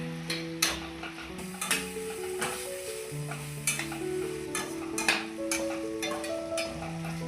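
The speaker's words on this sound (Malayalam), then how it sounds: "ഒരു 2 മിനിറ്റ് നമുക്കൊന്ന് വഴറ്റി കൊടുക്കാം" Carrots and peas sizzle gently in a pan with occasional scraping and clinking of a spoon stirring, while a soft tonal hum runs underneath.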